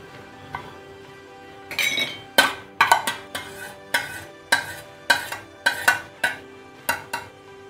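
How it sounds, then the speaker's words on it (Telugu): A utensil stirs boiled pasta into soft-cooked tomato mixture in a pan, giving a string of scraping clinks and knocks against the metal with a faint sizzle underneath, close and without speech. "పాస్తా ఇలా అంటుకున్నట్టున్న కలిపే కొద్దీ విడిపోతుందండి"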